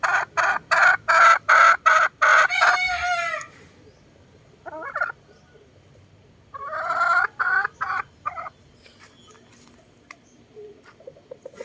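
Boston gamefowl chickens at a backyard breeder, a rapid series of loud clucks, then a crow, then further bursts of clucking separated by quiet gaps, close by.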